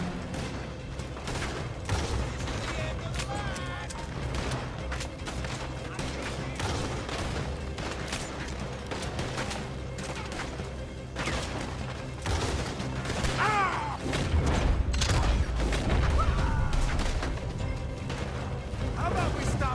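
A dense shootout in Red Dead Redemption 2 keeps gunshots cracking and popping continuously for about twenty seconds, layered with game sound and voices talking throughout.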